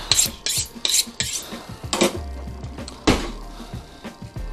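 Rhythmic metallic rasping strokes of a kitchen knife being honed, a butcher's blade drawn quickly against steel about six times, close and crisp with short pauses between passes.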